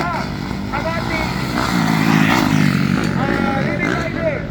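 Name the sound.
racing motorcycles, 85cc and 70cc bikes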